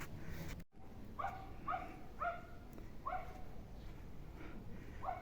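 A dog barks repeatedly at a steady pace, somewhat distant, over a low outdoor background hum in a dacha garden in Kyiv in May.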